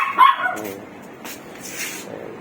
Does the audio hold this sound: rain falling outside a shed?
no